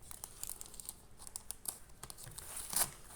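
Adhesive tape is torn and crinkled while taping up a plastic lunch box: a series of soft, close ripping and crackling bursts with a sharper tear near the end, fairly quiet and without speech.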